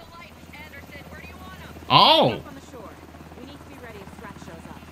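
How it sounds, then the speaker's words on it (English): A helicopter in the video game Alan Wake 2 holds a steady low rotor drone throughout, with a man's brief loud exclamation cutting over it midway. "That's a helicopter."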